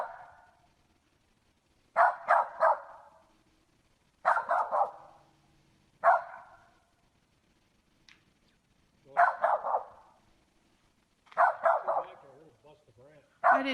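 A dog barks in bursts out in the woods, several clustered barks and yips recurring every couple of seconds at moderate distance, with a few faint voices between them.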